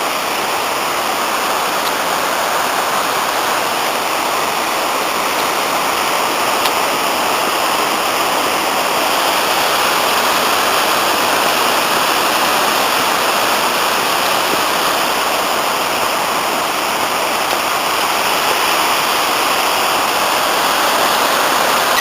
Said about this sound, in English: I've got a very good view of the rapids on this side